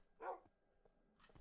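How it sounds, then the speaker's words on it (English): A dog gives a single clear bark near the microphone, followed by a couple of faint, brief yips in an otherwise quiet room, with no talking. "That's a good dog."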